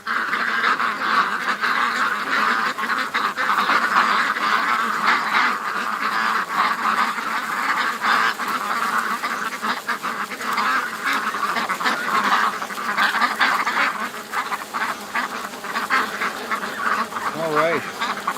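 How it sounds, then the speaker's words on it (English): A flock of ducks erupts in a sustained, loud chorus of overlapping quacks and honks, agitated by a nearby drone, continuing densely for the whole stretch outdoors. "we got a little bit of a duck freakout happening over here"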